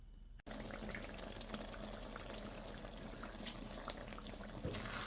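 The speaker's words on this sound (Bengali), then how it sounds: "ডালটা সিদ্ধ হওয়ার জন্য পানি দেবো" Water being poured into lentils in a cooking pot for halim, a steady continuous liquid pour and trickle running throughout, close and moderately quiet, with no talking.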